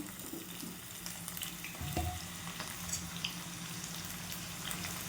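Raw jackfruit being sautéed in oil in a pan, a continuous close sizzle broken by occasional stirring scrapes and a brief clatter partway through, with no one speaking.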